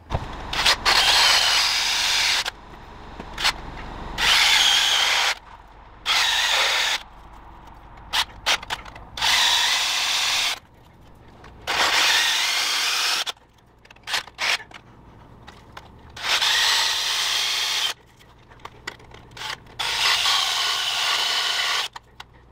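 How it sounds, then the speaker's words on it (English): A power drill boring relief holes around the circumference of a stuck pilot bearing during a transaxle and clutch job, loud close bursts of grinding whine separated by short pauses. "I'm going to drill relief holes around the circumference and hopefully we can get this thing out."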